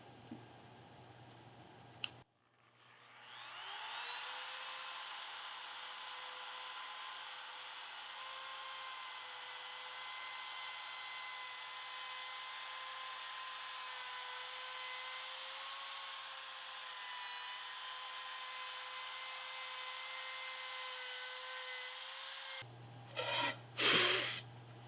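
Wood router fitted with a core box bit cutting a shallow groove along a board edge in a beginner woodworking project; a click, then a sustained high whine that runs for about twenty seconds before cutting off.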